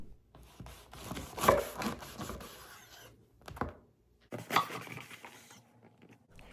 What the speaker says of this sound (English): We're going to start by cutting this into thick slices.